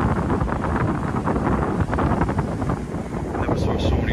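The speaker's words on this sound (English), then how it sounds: "The wind picked up, got a little cooler." Strong wind roars steadily against the microphone aboard a boat on the Intracoastal Waterway near Daytona Beach, a dense rushing noise with a hint of water and engine rumble beneath.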